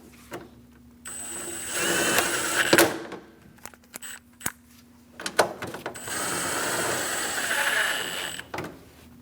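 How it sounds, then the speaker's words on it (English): Ratchet wrench tightening two 10mm bolts on the intake of a Chevrolet Express 2500 4.8L van, heard as bursts of rapid clicking with pauses between, close and moderately loud, with a few clunks of tools and parts. "Install the 2 10mm bolts on front."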